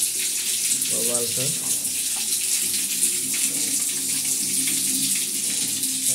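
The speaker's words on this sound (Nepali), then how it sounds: "देख्नुहुन्छ पानी पनि चालु भइसक्यो" A newly finished bathroom's water tap runs with strong force, a loud, steady, close gush throughout, with someone speaking briefly over it early on.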